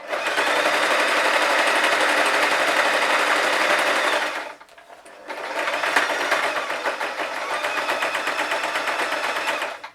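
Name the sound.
sewing machine stitching a seam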